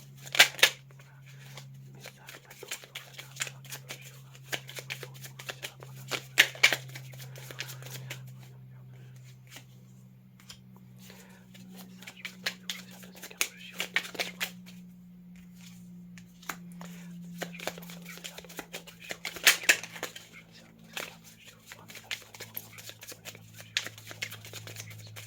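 Tarot cards shuffled and handled close up, a steady dry riffling and flicking with several sharper snaps, under a constant low hum and with no talk.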